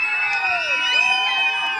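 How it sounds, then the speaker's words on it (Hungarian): Group of children at a Hungarian children's show letting out a big, shrill, sustained scream together, loud and close, with overlapping high-pitched voices. "Egy nagy sikítást kérek neki!"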